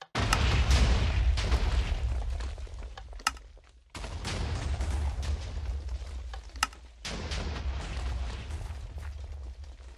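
Objects fired and exploding in Minecraft: a dense, rumbling series of booms and crackling blasts in three long bursts separated by brief gaps, with sharp pops inside.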